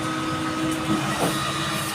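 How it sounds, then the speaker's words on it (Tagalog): A small 12-volt blower fan of the kind used on cooking stoves runs steadily, giving a continuous close whirring hiss with no talk over it. "ito yung tinatawag na blower sa yung ginagamit sa kalan"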